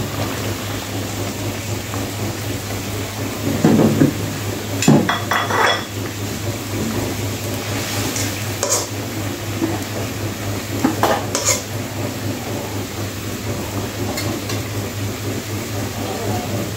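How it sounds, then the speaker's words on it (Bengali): Fried small river fish being added to boiled vegetables in a cooking pot and mixed in, heard as scattered clinks and scrapes of utensil against pot over a steady low hum, with no talking. "এখন আমি ভেজে রাখা মাছগুলো দিয়ে দেবো।"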